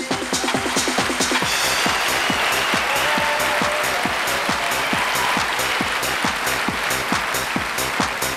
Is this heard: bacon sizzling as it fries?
no